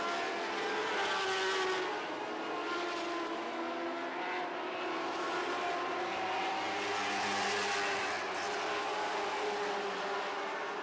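Lightning sprint race cars roar around a racetrack during a feature race, a dense continuous engine drone with rising and falling pitch as cars pass, loud and steady throughout with no talk.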